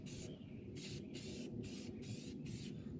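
Satin black spray paint hisses from a can in five evenly spaced short bursts, each about half a second long, quiet and close over a low background rumble.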